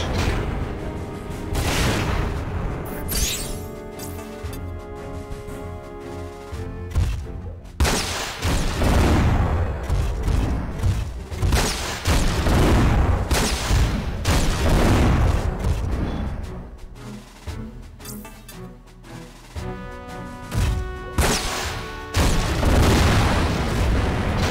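Bazooka shots and explosions from the PS2 game Front Mission 4 boom repeatedly, with heavy blasts, rumbling detonations and gunfire layered densely over one another at high volume throughout.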